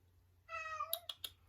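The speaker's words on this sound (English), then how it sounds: "That's my cat" A pet cat named Gus meows close by, one drawn-out tonal meow followed by a few short chirpy calls, clear against a quiet room hum.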